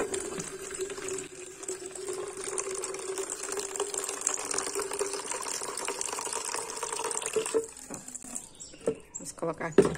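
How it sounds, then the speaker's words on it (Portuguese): Tap water running steadily into a bucket, a continuous rushing, splashing fill that lasts throughout with slight changes toward the end. "Vou colocar a mesma água da torneira"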